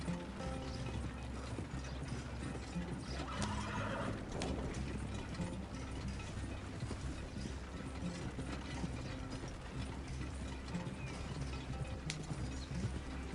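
Horse hooves clip-clop steadily as a wagon rolls along in Red Dead Redemption 2, with creaking, rattling wheel and gear mechanisms and a brief horse whinny, a continuous rhythmic clatter with no talking.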